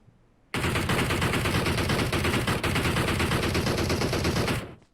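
Sustained automatic gunfire in PUBG Mobile bursts in abruptly after a quiet moment and hammers on loud and unbroken for over four seconds as rapid, close shots, then cuts off.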